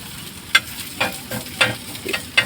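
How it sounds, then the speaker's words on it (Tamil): Goat brain fry stirred in a hot pan, with scraping strokes about every half second over a steady close sizzle. "நல்லா பொறுமையாக கிண்டுங்க"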